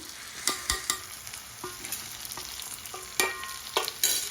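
Tomato rice ingredients frying in a pan while being stirred, a soft continuous sizzle punctuated by several sharp spoon scrapes and taps, close up and with no speech.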